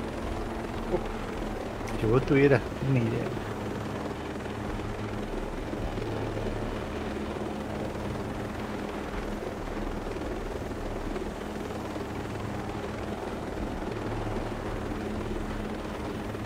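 Helicopter in Ghost Recon Breakpoint, a steady droning rotor hum running under someone speaking Spanish, with a brief louder burst early on before the engine settles into a constant wash.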